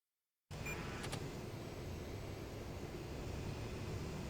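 A Saab AJS37 Viggen jet in a flight simulator game, airborne and heading toward a waypoint: a steady, loud broadband engine roar starts abruptly and then holds constant and unbroken, with no talk over it.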